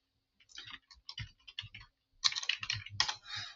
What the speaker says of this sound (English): I'll type my name in here